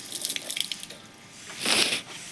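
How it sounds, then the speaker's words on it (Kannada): Water is poured in a thin stream, a soft close splashing and trickling that swells briefly near the end, with little else around it. "ಸಣ್ಣಗ ಸಣ್ಣ ಬೈಲೆ ಹಿಡ್ಕೊಂಡು ನೀರು ಹಾಕ್ಬೇಕಪ್ಪ."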